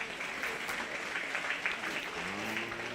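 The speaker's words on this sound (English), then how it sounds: "let's give him a really nice round of applause." An audience applauds steadily throughout at a 4-H and FFA beef and bucket calf cattle show for kids, a dense, even wash of clapping with no talk over it.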